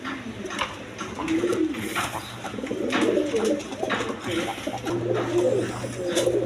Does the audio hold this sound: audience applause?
no